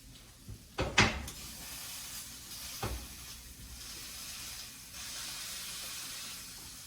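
Fish frying in butter in a pan gives a soft, steady sizzle and hiss, broken early by a couple of clattering knocks and a brief thud, then settling into a quiet continuous fry.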